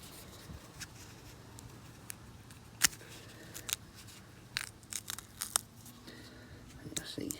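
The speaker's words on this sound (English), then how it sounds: "So you just get to the union there and you just give them a snip." Scissors snip the stems of broad bean plants in a square-foot garden bed. A few faint, sharp cuts and rustles sound close by against a quiet outdoor background.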